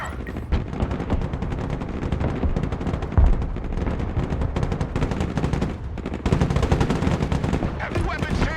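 Sustained machine-gun fire in the modern military strategy game Broken Arrow, loud continuous automatic bursts with a heavy thump near the middle and shouted unit callouts over the din.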